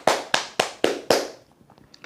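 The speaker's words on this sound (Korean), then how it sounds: "하시기 바랍니다. 박수!" Five loud, evenly spaced claps from a single person, followed by faint scattered taps fading out.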